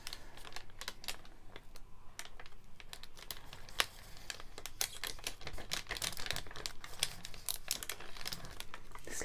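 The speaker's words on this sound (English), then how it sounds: "This lovely paper. I'm sure you can hear it crackling." Crunchy dyed paper crackles and crinkles close up as it is handled for a junk journal cover, a dense run of sharp rustling snaps throughout with no talk.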